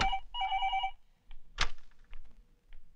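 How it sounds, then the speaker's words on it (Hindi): In the 1996 Hindi film Papa Kahte Hain, a telephone rings loud and close in one short double-burst ring, followed by a sharp click and a few faint knocks in an otherwise quiet room. "राकेश, ये कोई वक्त है फोन करने का?"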